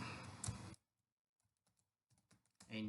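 Code typed on a computer keyboard: short clusters of soft, close key clicks separated by a near-silent pause, with louder bursts at the start and end.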